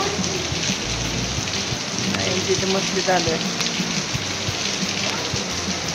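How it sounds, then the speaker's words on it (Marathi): Heavy rain pours down steadily in a dense, even hiss, with people talking over it now and then. "खूप जोरात पाऊस आहे"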